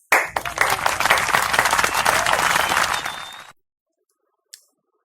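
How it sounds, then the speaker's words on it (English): A crowd of graduates at a Class of 2020 graduation ceremony breaks into dense, sustained applause for about three and a half seconds, then it stops abruptly, followed by silence and one faint click. "So let's give us a big round of applause."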